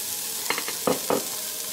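Ginger frying in a pan and being stirred, a soft steady sizzle with a few brief scraping strokes of the utensil close by.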